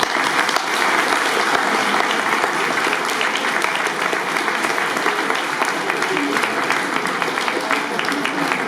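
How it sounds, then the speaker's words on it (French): An audience at a lycée baccalaureate diploma ceremony in Angoulême gives the teachers sustained, dense applause, steady and fairly loud from start to finish. "Je souhaite que nous commencions par applaudir les professeurs"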